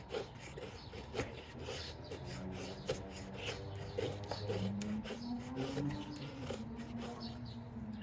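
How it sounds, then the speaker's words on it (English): A Croco Knives Dbad Menace blade carves shavings from fatwood in repeated close, dry scraping strokes, each rasping pass following the last at a steady working rhythm. "We got to see if it can carve up our fat wood."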